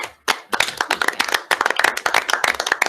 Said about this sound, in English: No audience, so we have to clap for ourselves